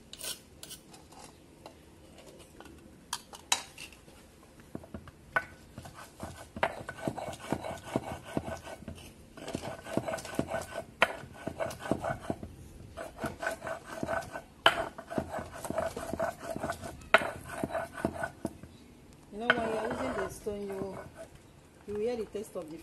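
Food for a native stew is ground by hand on a grinding stone, producing continuous rough scraping and rubbing strokes in irregular bursts, fairly close, with a voice speaking over the work.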